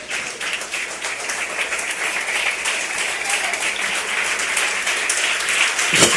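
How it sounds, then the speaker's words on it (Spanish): A church congregation claps and applauds together, a dense, steady roar of hands that stays loud and even for several seconds with faint voices mixed in. "Póngase en pie, por favor. Y apláudale al Señor, apláudale al Señor."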